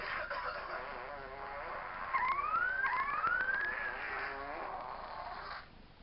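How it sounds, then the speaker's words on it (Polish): A whoopee cushion phone app plays a synthetic fart sound, a buzzy tone with rising whistling sweeps lasting several seconds, loud and close with no talking over it. "Mam jeszcze poduszkę pierdzącą."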